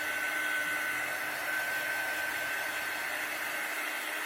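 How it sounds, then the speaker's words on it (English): An unheated air dryer blows steadily over wet chalk paste on a transfer, a constant close whooshing hiss that runs through the whole stretch without talk. "So this is just an air dryer. It's not heat. It's just something to speed up the chalk drying."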